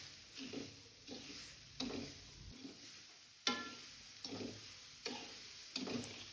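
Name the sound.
stirring sugar in a pan for coconut ladoo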